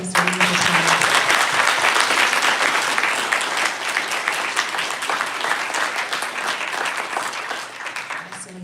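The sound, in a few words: audience applause for guests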